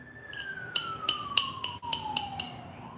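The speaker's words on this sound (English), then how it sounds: "Uh-oh, there's an ambulance." An ambulance siren passes at moderate distance, one long wail sliding slowly downward in pitch over about three seconds, with a few sharp clicks scattered through it.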